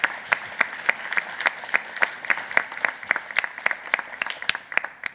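At the end of a Dutch Game Day fireside chat, a conference audience gives a steady round of clapping, with distinct individual claps in a lively, fairly even rhythm over several seconds.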